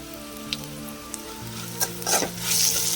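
Hot oil sizzles and crackles as spices are tempered for a yogurt chutney, with a few small clinks of utensils and a low steady hum beneath.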